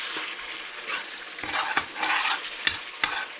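Lean ground meat cooks in a pan without oil, giving a soft continuous sizzle and several sharp scraping stirs of a utensil against the pan, close by and with no talking.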